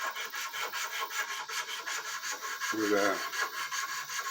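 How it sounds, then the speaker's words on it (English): Rhythmic back-and-forth rasping of sandpaper on a wooden axe handle blank held in a vise, steady strokes close by, with a brief low spoken word partway through. "continue sanding the blank"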